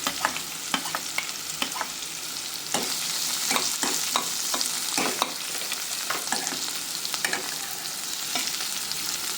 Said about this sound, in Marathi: एक मोठा कांदा साधारण बारीक चिरून घाला. त्याला पण गुलाबी रंगावर परतून घ्या.